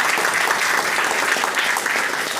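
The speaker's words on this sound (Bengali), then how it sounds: "আমাদের স্যারের জন্য একবার জোরে হাততালি হোক।" An audience at a company seminar gives dense, continuous applause, a steady wash of many hands clapping at close range with no speech over it.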